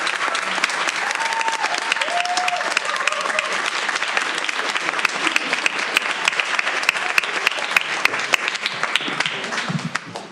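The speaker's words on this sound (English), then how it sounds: "Let's give him a round of applause" An audience at a Granite School Board of Education meeting claps steadily for about ten seconds, a dense, even round of applause filling the room, with a voice briefly heard underneath.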